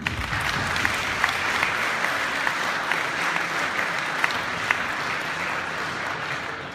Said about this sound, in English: I want you guys to give yourself one big applause for the fact that you're here